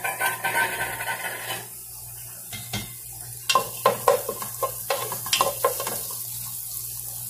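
Onion hitting hot oil in a pot and frying, a sizzle with clattering stirring strokes and scraping that grow busier and louder in the second half, close by and without talk.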